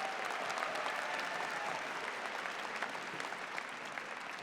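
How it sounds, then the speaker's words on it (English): A graduation ceremony crowd claps steadily in sustained applause, dense and fairly loud, with a faint murmur of voices beneath the clapping. "Let's give him another round of applause."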